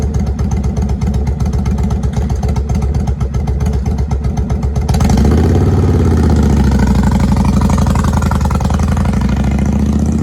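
Motorcycle towing a freshly built trailer idles with a steady low putter, then the engine opens up and pulls away, growing louder and smoother as it accelerates close by, with no talk over it.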